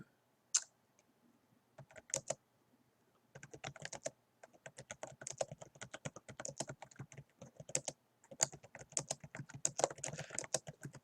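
Typing on a computer keyboard, heard in a Doogie Howser scene: quiet close clicks come in short bursts, then settle into fast, steady runs of keystrokes with brief pauses.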